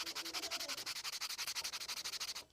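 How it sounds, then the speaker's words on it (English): Rapid rhythmic sanding strokes on a small plastic shoe charm, close and steady, a scratchy back-and-forth rasp repeating about ten times a second before stopping abruptly. "So I'm going to sand it down"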